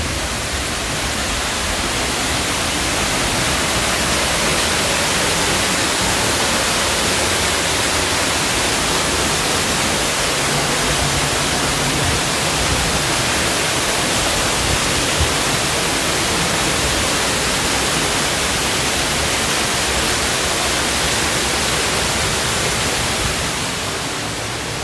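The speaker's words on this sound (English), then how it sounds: "we're gonna walk over here to the waterfall" The waterfall at Disney's Animal Kingdom pours in a steady, dense, loud rush of falling water that holds unchanged throughout, with no voices or other sounds rising above it.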